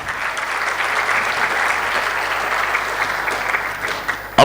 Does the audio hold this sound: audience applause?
yes